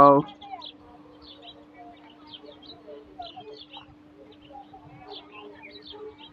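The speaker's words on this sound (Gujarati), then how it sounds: "સવારે પક્ષીઓનો કલરવ" Small birds chirp and tweet in the morning in scattered bursts at a distance over a low steady hum, after a brief voice at the very start.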